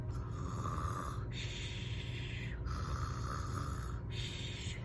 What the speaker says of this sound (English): They listen to the dragon snore.